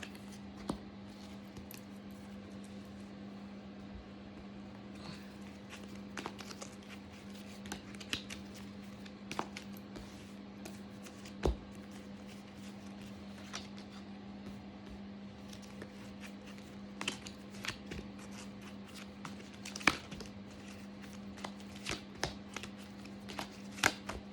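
Tarot cards being handled and shuffled, with soft riffling and sharp snaps of cards scattered across a steady low background hum, no talk.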